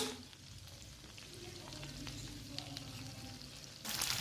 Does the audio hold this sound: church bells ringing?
no